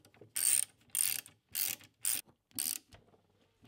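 Ratchet tightening a nut on a Land Rover chassis during restoration, five evenly spaced rasping clicking strokes, close and clear with no talk.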